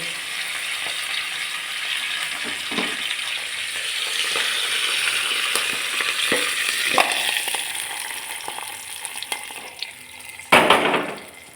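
A sizzling curry leaf tempering in oil being poured into a chutney vessel: a continuous close crackling hiss, with a few scrapes and a loud clattering splash near the end.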